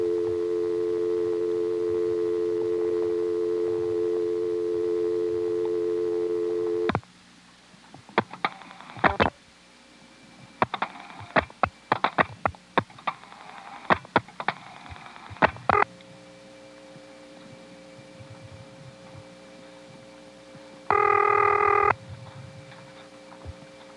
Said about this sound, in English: I'm now going to let the dial tone time out, and then I'm going to dial 6 for 670